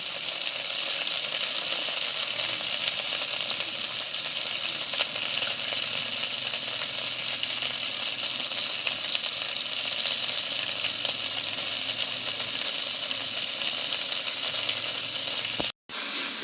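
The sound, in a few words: okra frying in a pan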